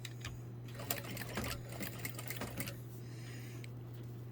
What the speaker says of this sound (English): I'm also sewing on a 1/4 inch seam allowance.